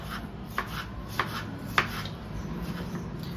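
A knife taps sharply on a cutting board, dicing tomato flesh a few times at an uneven pace, with soft scraping and faint kitchen hum between strokes.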